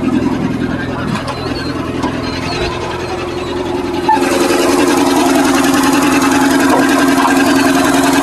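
A used car's engine idles with an odd, uneven note at a Karachi Sunday car bazaar, a steady low hum with a harsher rattling tone that grows louder about halfway through amid outdoor market noise.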